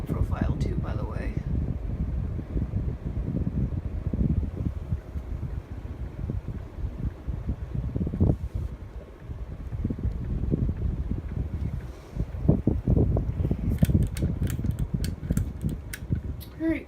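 A Hunter Low Profile II ceiling fan, running on high in an office and wobbling, gives a steady airy whoosh with soft fluttering, heard close and continuous while someone talks over it.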